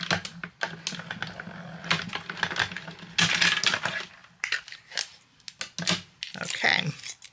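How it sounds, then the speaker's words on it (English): Spellbinders Scout die-cutting machine cranking mirror cardstock through its rollers, a close series of clicking, crunching mechanical taps and grinding bursts, with a voice talking intermittently. "I'm going to bring in my Scout and we'll just die cut together."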